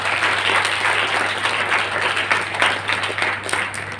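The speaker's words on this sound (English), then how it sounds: "Can we give a big round of applause?" An audience at an entrepreneurship training event breaks into loud, sustained applause, a dense wash of clapping with a steady low hum beneath.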